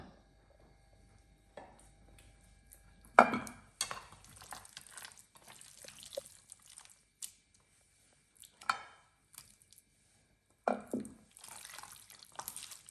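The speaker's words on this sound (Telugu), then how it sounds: "ఇప్పుడు ఈ ల్యాంబ్ చాప్స్ని తీసుకుని ఈ మ్యారినేషన్లో కలిపేద్దాము" Lamb chops being mixed by hand into a spice marinade, with scattered wet squelches and slaps, brief moist smacking bursts separated by quiet gaps, close and fairly soft with no talking.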